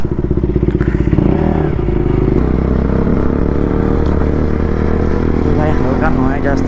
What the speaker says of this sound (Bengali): আজকে অনেক দিন পর বাইক নিয়ে বেরোচ্ছি